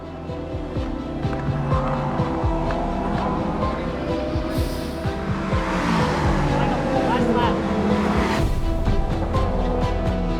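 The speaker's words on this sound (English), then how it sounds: "On the restart, with only minutes left in the race, Jack Aitken in the number 31 Cadillac leaps ahead of Nick Yellowly in the number 25 BMW" Race cars, including the number 31 Cadillac and number 25 BMW, roar past during a late-race restart at Sebring, a loud continuous engine drone with passing surges, as commentary talks over it.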